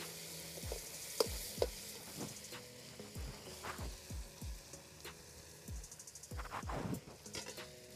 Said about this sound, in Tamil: வரமிளகாய் இந்த மாதிரி எண்ணெயில் போட்டு வதக்கும் போது தான் அவ்வளோ டேஸ்ட்டாக இருக்கும்.